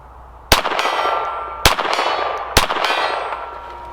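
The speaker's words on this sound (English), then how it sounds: "I still like the gong. Stick to the silver gong." .22 LR rounds from a Sig Sauer 1911-22 pistol strike a silver steel gong target, giving three loud, ringing metallic clangs about a second apart, each leaving a long shimmering decay.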